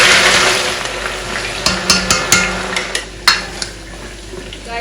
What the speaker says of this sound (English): Right now, I have been frying this inside this oil.